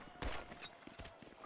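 Pistol gunfire in the video game GTA Online sounds as a few sharp, quick cracks over a noisy, busy background, fairly faint overall.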